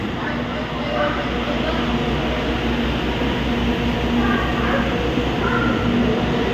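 A train standing at a platform at Kilambakkam station gives off a steady, loud low rumble and engine hum, with a faint voice and distant station noise under it.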